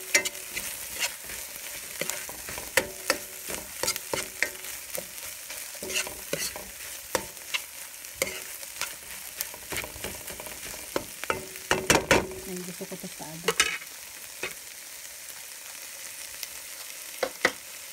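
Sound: sautéing in a frying pan

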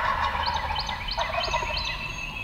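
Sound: wild turkey gobblers gobbling

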